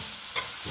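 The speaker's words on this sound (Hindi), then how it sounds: "इसको अब मैंने अच्छी तरह से मिक्स करना है और फ्राई करना है।" Ginger, garlic and spices stir-fry in hot oil for mash daal, a soft continuous sizzle with a faint scrape of stirring partway through, brief and quiet with no talk.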